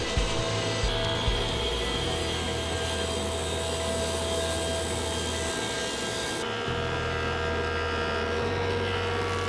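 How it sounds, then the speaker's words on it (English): A table saw rips lumber to rough width for a custom entry door, giving a steady, loud, continuous motor whine and cutting roar across the whole stretch, with the pitch shifting slightly partway through and no talk. "Finally, we head to the table saw and rip our pieces to rough width"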